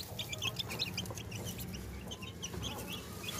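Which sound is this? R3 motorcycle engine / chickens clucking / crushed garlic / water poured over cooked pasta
chickens clucking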